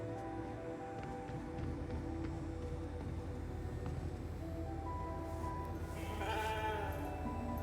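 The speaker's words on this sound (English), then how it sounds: "Never thought I'd be so glad to see a sheep." A sheep bleats in the video game The Alters, a drawn-out nasal call rising late in the clip over a steady low hum of game ambience, fairly close and clear.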